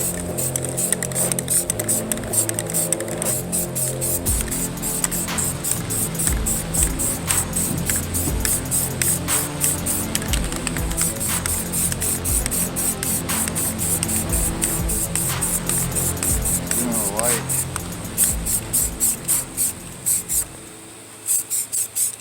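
A spray can sprays primer onto a car hood in a long, steady hiss held close and loud for about twenty seconds, with brief sputters near the end and no voices.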